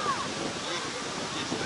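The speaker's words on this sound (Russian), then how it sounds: "Ветер сильный." Strong wind roars steadily outdoors at a lake during a thunderstorm, a broad rushing noise buffeting the microphone, with faint voices underneath.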